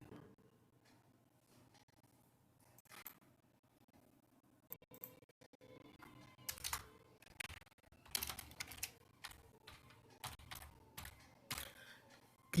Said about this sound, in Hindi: यहाँ पर टाइप करेंगे TREE